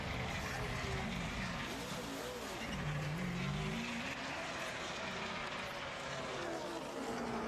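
A NASCAR race car at the 2009 Price Chopper 400 rolls down pit road at 45 miles an hour, its engine a steady near roar throughout, with a commentator talking over it.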